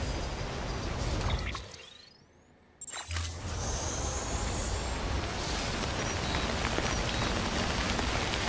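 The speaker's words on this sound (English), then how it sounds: "Nice, and it's raining now." Steady, dense rain hisses across surfaces in the video game Death Stranding, briefly fading to a hush and then returning at full, even strength.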